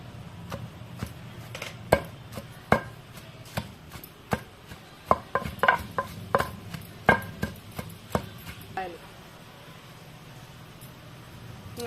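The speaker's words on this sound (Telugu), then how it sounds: "తర్వాత టమాటో పండ్లు వేసుకొని దంచుకోవాలి." Tomatoes are pounded in a mortar for a green chili and coconut chutney, with about twenty sharp, uneven thuds in a loose rhythm, close by, easing off near the end.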